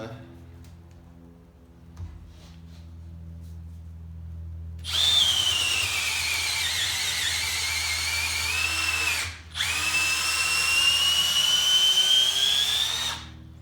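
A Milwaukee M12 Fuel cordless hammer drill whines loudly as it bores through a board in two long bursts with a short pause between, after a quiet stretch of background hum.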